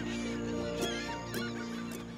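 Cartoon birds honking on a bird island, a few goose-like honks rising over a steady layered soundtrack bed, with no voices.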